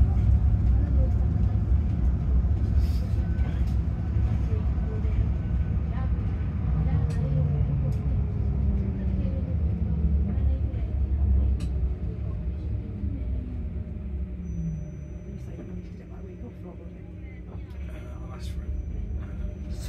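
Inside an electric bus on Nottingham's Red Line 50, a steady low road rumble fills the cabin, with gentle whining tones from the drive that slide in pitch as the bus moves and a slight quieting near the end; voices are heard over it.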